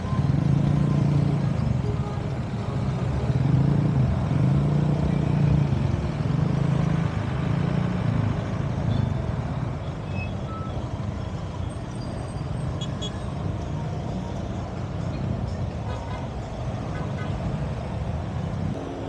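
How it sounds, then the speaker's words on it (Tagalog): Rush hour traffic on the newly asphalted Quiapo Bridge in Manila, a continuous rumble of cars, trucks and engines rolling past, loud and close at first then easing slightly. "Grabe yung traffic pala dito pag rush hour, no?"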